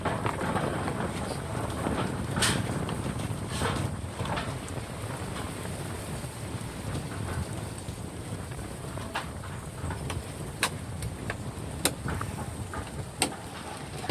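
Strong wind sweeping over a rice field, a steady broadband roar and rumble of wind buffeting the microphone, with occasional faint clicks and ticks scattered through it.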